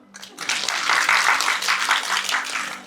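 A live audience at a stand-up comedy show bursts into applause. The clapping rises quickly, holds dense and loud for about two seconds, then tapers off, with a brief voice heard just before it.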